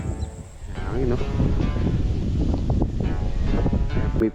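Wind buffets the microphone on an open farm, a steady rough roar that fills the clip while a person talks underneath it.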